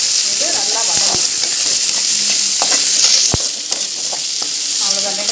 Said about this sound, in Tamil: வெங்காயம் இப்போ நல்லா வதங்கிடுச்சு